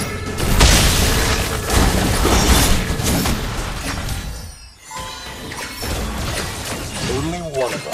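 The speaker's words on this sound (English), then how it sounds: "Our turret has been destroyed." A turret crumbles in a Mobile Legends ranked match, loud crashing and shattering debris over dense game effects, with an announcer voice speaking over the destruction.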